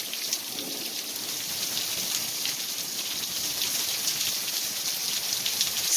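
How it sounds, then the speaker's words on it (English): Heavy rainstorm pouring down steadily, a dense, loud hiss of rain hammering on surfaces with no letup, heard close and without any voices. "Just listen to that storm."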